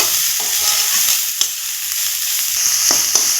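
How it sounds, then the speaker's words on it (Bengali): Carrot and cabbage lightly frying in a pan give a steady soft sizzle, with a few sharp clicks of stirring near the end, close and alone with no talk. "এই সমস্ত উপকরণগুলো একসাথে আমি হালকা করে একটু ভেজে নিব"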